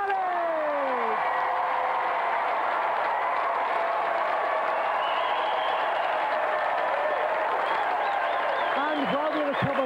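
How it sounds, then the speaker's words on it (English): A TV game show studio audience applauds in a steady, continuous wash of clapping, with electronic tones and swooping synth sounds layered on top. "let's have another round of applause for our winner, Adam Whisker"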